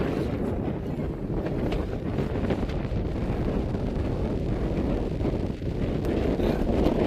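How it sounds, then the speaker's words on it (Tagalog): Loud, steady wind buffeting the microphone, a continuous low roar with rumbling gusts throughout and no voices. "napakalakas ang hangin."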